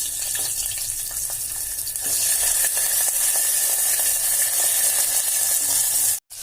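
Vegetables and cumin seeds sizzle and fry steadily in hot oil for a vegetable pulao, loud and close with occasional stirring scrapes, then a brief cut near the end.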